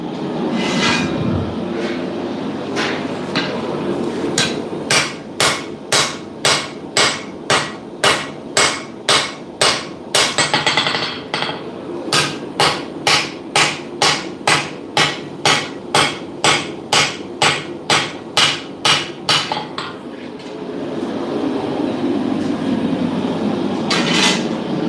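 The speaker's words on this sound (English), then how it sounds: "The hammer wasn't bouncing." Blacksmith's hammer striking hot metal on an anvil in a forge, two long runs of sharp ringing blows in a steady quick rhythm, loud and close, with a brief pause between runs and rumbling shop noise behind.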